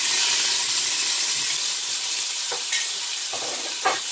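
Sofrito sizzles steadily in a hot pan, a dense frying hiss close by, broken by a few scraping clatters of a spoon stirring it.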